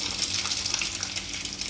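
A household water pump motor runs while water gushes steadily into a tank, a loud, close, continuous rushing hiss without speech.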